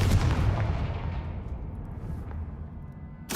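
A Confringo blasting spell from the game Hogwarts Legacy erupts in a loud, booming burst that rumbles and slowly fades over a few seconds, ending with a sharp fresh crack.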